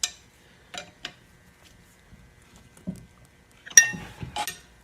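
Wrenches on nuts during stud removal by the two-nut method, while changing cylinder sleeves on a Perkins 152 engine in a Massey 231 tractor: scattered sharp metallic clinks and taps, a few isolated knocks, then a clustered burst of clanks near the end.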